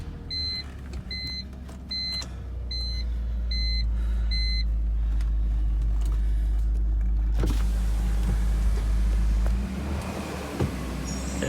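An old car engine runs nearby with a steady, low, rumbling idle. A short series of high electronic beeps sounds before the engine noise swells, and the engine then settles near the end.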